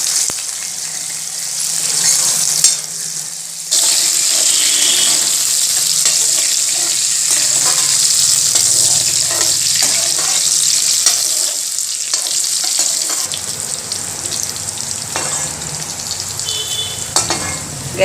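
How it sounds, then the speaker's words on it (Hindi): Soybean badi (soy chunks) frying with potatoes in a pan: a loud, continuous crackling sizzle with repeated scraping stirs, close up, briefly dropping and resuming near the start and softening toward the end. "तल के बनाएंगे, अच्छे से भून लेंगे इसको, क्योंकि भून के बहुत टेस्टी होते हैं आलू के साथ।"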